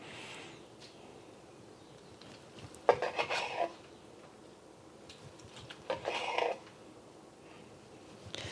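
A knife slices through Chinese BBQ pork belly char siu on a board, two distinct bursts of crisp cutting and clacking against a quiet background.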